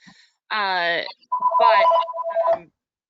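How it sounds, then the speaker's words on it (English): A phone rings with a warbling electronic tone in a couple of bursts during a board meeting, mixed with other tonal sounds and fairly loud. "Sorry, that's my phone."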